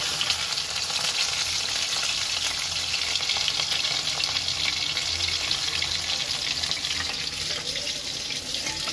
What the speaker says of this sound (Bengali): এবার মাছগুলো আমি ভেজে নিই।